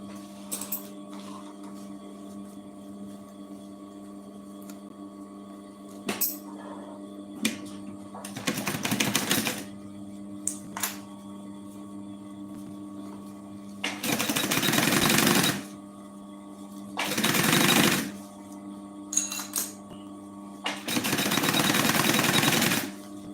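Sewing machine stitching a puffer backpack runs in several loud bursts of rapid mechanical chatter, each lasting a second or two, separated by quieter pauses with light handling clicks.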